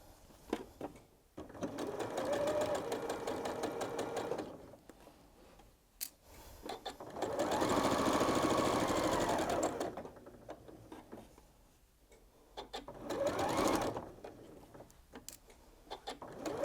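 A home sewing machine stitches scrappy quilt pieces in three rapid whirring bursts, each a few seconds long, separated by pauses with small clicks and handling noises, close and fairly loud.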